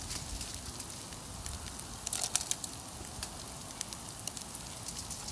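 Whole spices such as cloves, star anise and cardamom hitting fried sauteed onions in a pan for a beef soy sauce stir fry, a faint crackling sizzle with a small cluster of sharper pops midway.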